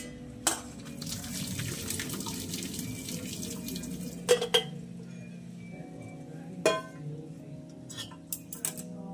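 Water pours and splashes into a sink as it is drained off citron pieces for pickle, with a few sharp metallic clinks of a pot and a brief trickling, recorded close and fairly quiet.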